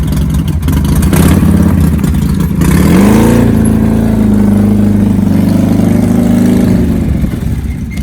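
A car pulling away on tires remounted by hand onto old rims, its engine loud and close as it revs, then holds a steady droning pitch before easing off, with no talking over it.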